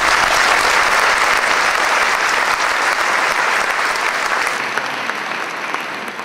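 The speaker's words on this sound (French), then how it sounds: "Je voudrais que vous leur réserviez une ovation et vous pourrez les applaudir après." An audience in a large sports-complex hall applauds loudly and continuously at a concert of wind bands and choirs, the dense clapping fading slightly toward the end.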